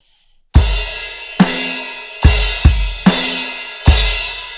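A drum kit plays the pre-chorus of a song: six loud, close strikes, some in quick pairs, each leaving a ringing cymbal and snare wash, with no voices.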